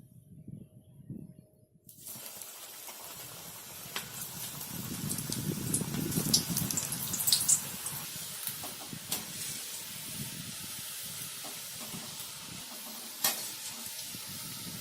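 Pakoda dumplings dropped into hot oil, a hissing sizzle that starts after a quiet moment with a few low clunks, then bubbles steadily at close range with occasional stirring clicks.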